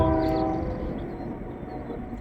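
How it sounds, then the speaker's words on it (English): A passing train sounds its horn near an RV, a loud sustained blast at the start that fades into the low rumble of the train rolling by, with no talking. "Gotta say hi to my train every 30 minutes."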